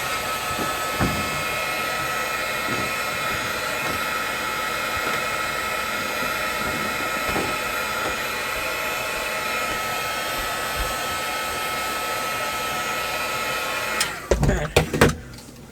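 A craft heat tool or dryer drying spritz on a paper craft tag, blowing as a loud, steady whooshing roar close by for most of the time, then cutting off with a few clunks and handling noises.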